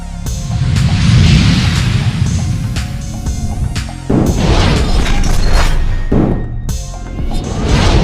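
Firecrackers burst during a victory procession at Darbhanga Tower, heard as a series of loud booms and cracks over dense, continuous outdoor noise.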